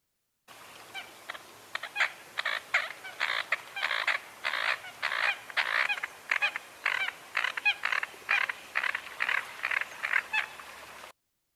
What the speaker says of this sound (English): Here's American Coot.